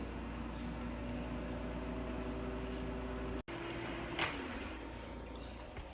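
An air fryer hums steadily at 350 degrees while cooking seafood stuffed mushrooms, a constant low fan drone that cuts off briefly and resumes, with a faint click afterward.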